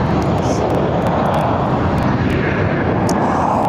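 Airliner departing Barcelona airport, a loud, steady jet engine roar from nearby that continues without break throughout.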